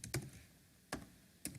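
Three well-spaced keystrokes on a computer keyboard, quiet and close, each a crisp separate tap with silence between.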